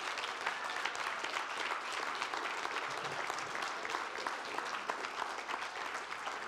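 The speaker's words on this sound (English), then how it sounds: "give them a round of applause." An audience at a church gathering gives a steady round of applause for the volunteer crew. The clapping sounds soft and somewhat distant, with crisp individual claps throughout.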